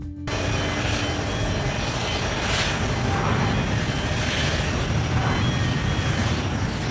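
A Boeing 777-300ER wide-body airliner touches down, its engines giving a sustained, loud, dense roar with a steady high tone and swelling rushes of noise, with no voices.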